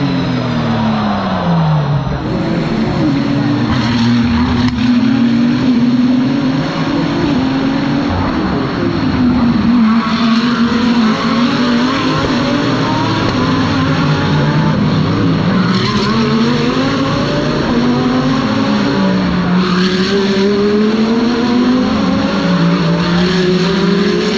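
Race cars, including a Lamborghini Huracan, Porsche 911 GT3 and Ferrari 296, pulling out of the pit exit at the Macau Grand Prix, loud continuous engine roar with rising and falling revs as the cars accelerate past.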